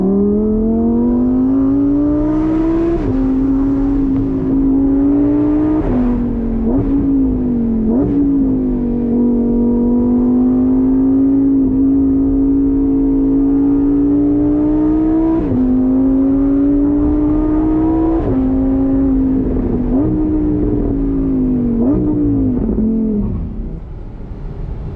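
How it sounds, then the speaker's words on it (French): Several Lamborghini Huracán supercars rev steadily in a valley, a loud sustained engine drone rising and dipping in pitch through repeated throttle swells over about twenty-five seconds, with no voices. "Il y a des Huracans dans la vallée."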